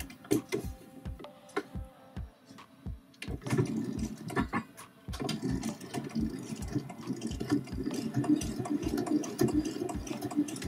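A sewing machine runs a straight line of stitching along a turned-back fabric edge from a skirt being refashioned into a top, starting with separate ticks, then settling into a steady, close mechanical whir.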